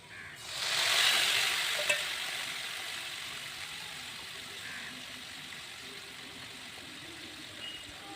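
Mustard paste drops into a hot pan in a village kitchen and bursts into a loud sizzling hiss. The frying then settles into a steady, gradually fading crackle with no talking.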